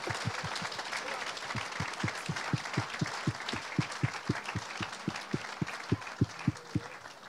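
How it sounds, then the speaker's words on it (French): A church congregation claps for the preacher in a steady, rhythmic beat, with cheering voices and crowd noise blending over the evenly spaced claps. "Est-ce qu'on peut l'acclamer, frères et sœurs?"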